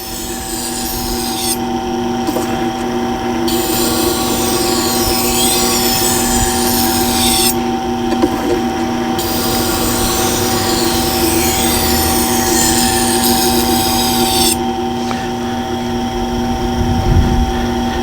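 Tormek T-2 Pro sharpening system grinding a kitchen knife, a steady continuous rasping grind with a constant motor hum underneath, running nearly the whole time with brief pauses between passes, close and fairly loud.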